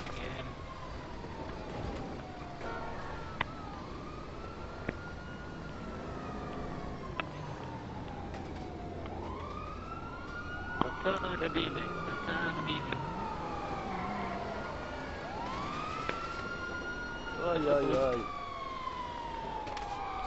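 Several wailing police sirens rise and fall in Grand Theft Auto Online, overlapping with sharp impacts and clatter, while a voice briefly speaks.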